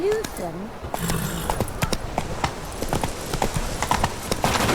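Roach the horse's hooves clip-clop in a quick steady rhythm in The Witcher 3, close and clear, with a brief whinny-like voice and speech over the hoofbeats.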